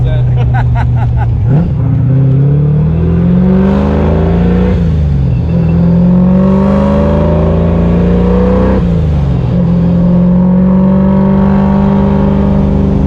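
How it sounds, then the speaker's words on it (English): A loud, close supercharged 347 V8 in a Fox-body Mustang roars through several rising revs, each climbing in pitch then dropping back to a deep burbling idle. "That exhaust sounds amazing, bro."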